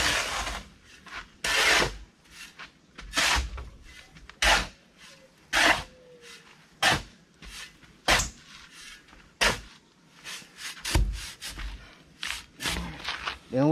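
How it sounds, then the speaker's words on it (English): Sand and cement being mixed together by hand for rough casting in a yard, giving repeated scraping, rubbing rasps in uneven bursts at close range with no talk. "Right now, I mix the sand and the cement together."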